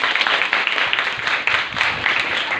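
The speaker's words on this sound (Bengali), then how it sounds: "জোরে একটা করতালি দাও" Loud, steady applause from a classroom of students cheering a prize winner in a speech competition, dense clapping sustained throughout without a break.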